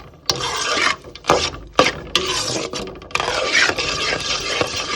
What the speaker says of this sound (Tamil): இதை நல்லா எண்ணெயில் மிக்ஸ் பண்ணி விடுங்க.